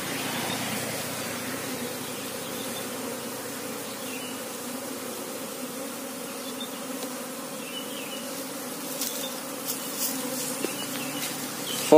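Wasps buzz beside a house in a dense, continuous drone that hovers at a steady level for the whole stretch, with a few faint clicks and knocks near the end and no voices.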